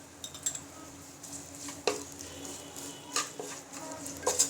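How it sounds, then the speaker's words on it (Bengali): Onion and garlic frying in a pan with a faint sizzle, punctuated by sharp clinks of a metal spoon stirring against the pan, close and alone with no talking. "এভাবে করে আমি পেঁয়াজ এবং রসুন ভালোভাবে ব্রাউন করে ভেজে নিব"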